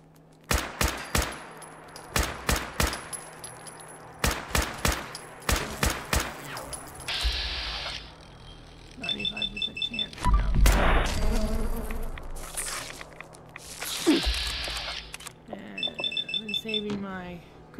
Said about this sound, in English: now it sounds like my neighbors are shooting a gun